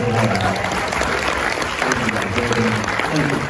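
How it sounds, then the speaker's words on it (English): An audience at a real estate marketing seminar claps and cheers for the event hosts, a dense roomful of steady applause with a speaking voice faintly underneath. "let's give a huge round of applause to Mark and Kurt for putting this on"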